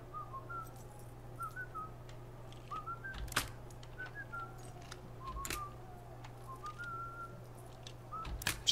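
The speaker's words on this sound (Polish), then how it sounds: "Przestaniesz mi tu gwizdać?" Someone whistles in Assassin's Creed Unity, a string of short whistled notes over a steady low hum, with a couple of sharp clicks along the way and no talking.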